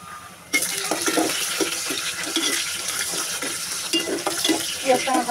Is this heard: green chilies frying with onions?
yes